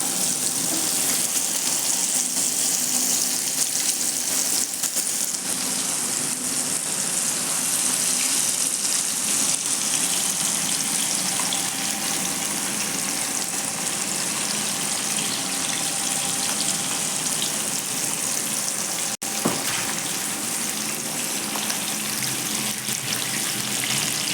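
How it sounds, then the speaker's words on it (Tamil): Whole fish frying in hot oil in a pan, a steady loud hiss and crackle of sizzling that runs unbroken from start to end, close and without talk. "நல்லா பொரியுது பாருங்க ஃப்ரெண்ட்ஸ் எப்படி நல்லாவே பொரியுதுங்க"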